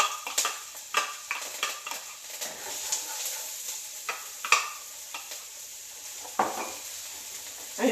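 Onion going into a hot pan with garlic for cauliflower fried rice, with a soft, steady sizzle under a series of sharp spoon clinks and scrapes against the pan as it is stirred.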